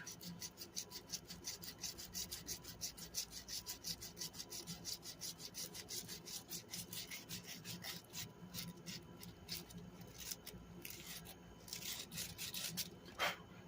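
Hand sanding of rusty, water-damaged MTD lawn mower parts, a steady rapid rasping scrape with repeated short strokes throughout, close and continuous.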